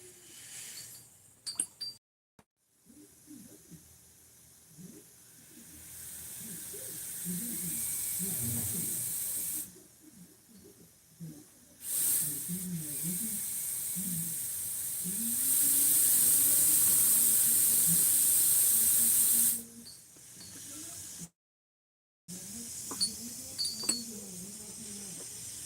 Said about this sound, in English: just to do a little compressed air